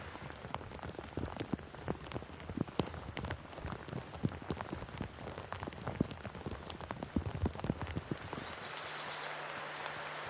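Light rain falls in mountain buffalo hunting country, a soft steady patter of drops ticking on leaves and ground, faint and continuous, with no voices.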